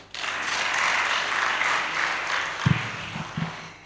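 Applause at a ministerial handover of radio broadcast studios in Kanyamazane, a crowd clapping together for a few seconds, with a couple of low thumps or voice bursts near the end.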